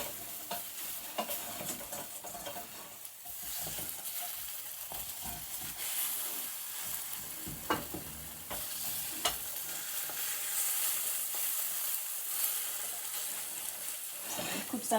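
A cheese omelette frying in a pan and being stirred like scrambled eggs, a quiet steady sizzle with scattered scraping and tapping of a utensil, plus faint running-water-like noise in the background.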